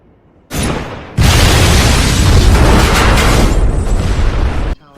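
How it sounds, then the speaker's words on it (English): A loud, close movie explosion of a large bomb on top of a building erupts, then becomes a sustained roaring rumble of fire and debris that lasts several seconds before cutting off. "causing a massive explosion."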